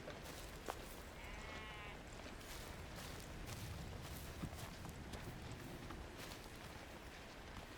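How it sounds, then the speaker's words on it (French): Goat in the mountain video game Cairn, faint bleats blended into continuous ambient game noise, with a brief call early on and no speech. "Oh, une chèvre."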